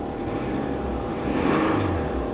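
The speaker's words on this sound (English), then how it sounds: "We'll shut her down. She got a rod knock." The engine of a 1993 Nissan Maxima with a rod knock runs steadily nearby, a loud low drone that swells slightly toward the end, with no talking.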